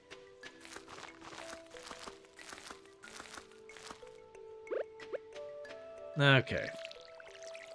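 A watering can soaks crops in Stardew Valley, with a short splashing pour near the end among soft dripping and plinking game sounds and tones. A voice speaks briefly.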